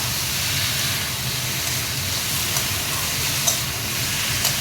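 Tomato and sour yogurt curry sautéing in a pan over low-to-medium heat gives a steady, soft sizzle and hiss throughout, with a few faint clicks and no talking.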